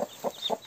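A broody hen with her chicks gives four short, close clucks in a quick, uneven rhythm, with faint higher chirps mixed in and no talking.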